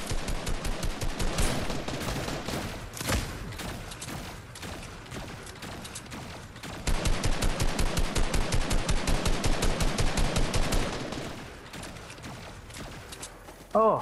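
Rapid bursts of automatic gunfire in the video game Fortnite, with loud rattling volleys, brief pauses and renewed firing; players talk faintly underneath.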